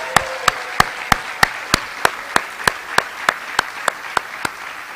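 A single person claps at a slow, even pace, about fifteen sharp claps over several seconds, at a high school fall sports awards event. The claps sound close and crisp, with no crowd joining in.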